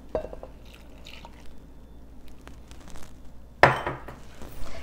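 Cold non-fat milk is poured into a bowl of flour mixture for English raisin scones. Quiet liquid trickles and drips are followed by a sharp clink of a cup or utensil against the bowl, and no one speaks.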